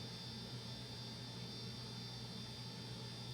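A Betafpv Aquila16 FPV drone lifts off under medium throttle, its small motors giving a loud, steady high-pitched whine with a constant tonal buzz that holds without a break.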